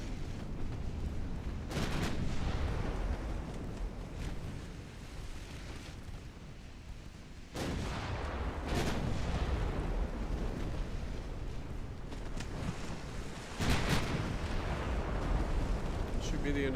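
Naval gunfire and shell hits on ships, including a light cruiser, in the video game Ultimate Admiral Dreadnoughts, heard as repeated booming blasts over a constant rumbling battle background.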